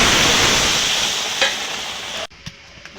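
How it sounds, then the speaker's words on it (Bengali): Water poured into sizzling egg curry masala in a pan, a loud steady hiss that fades, then cuts off abruptly into near quiet with a couple of light knocks. "মশলাটা কষিয়ে নিয়েছে, এবার জল দিয়ে দেবো।"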